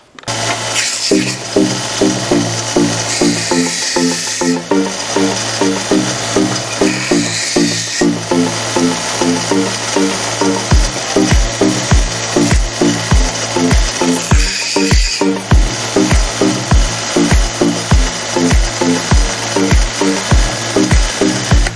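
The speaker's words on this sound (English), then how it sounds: "Let me sand that first." Rhythmic back-and-forth scraping of hand sanding on wood, repeated strokes at a steady pace, close and loud with no talking.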